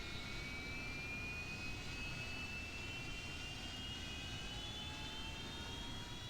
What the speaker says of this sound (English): Feed fuel into engine. Engine starting, set bingo fuel.